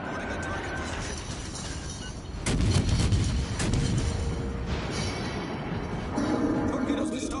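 Naval artillery fire aimed at an enemy warship in a PS4 video game, with heavy booms and rumbling blasts rising after a quieter start and recurring over continuous background noise.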